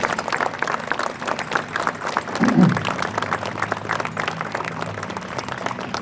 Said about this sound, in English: So let's give that group a round of applause.